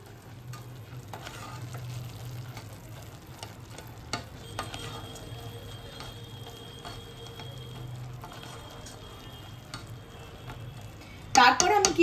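Sweet fried bonde pearls are stirred into sugar syrup in a pan, giving soft, scattered scrapes and clicks over a quiet low hum, then a brief burst of louder clattering at the very end.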